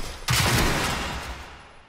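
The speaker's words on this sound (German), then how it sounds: "Mit dem Schalldämpfer klingt der total lächerlich wie so eine Erbsenpistole" A silenced revolver fires once in Generation Zero, a sharp sudden crack followed by a long decaying rumble and echo, close and loud with no talking.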